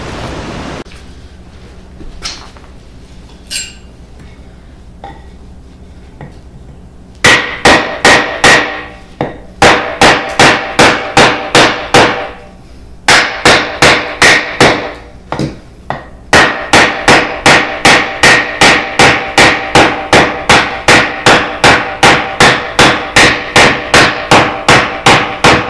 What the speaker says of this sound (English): See if I can find a log to baton.